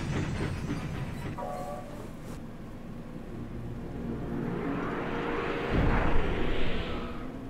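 A train runs in the video game Medievil, a continuous rumbling and clanking that swells louder toward the end, with a brief metallic screech partway through and no speech.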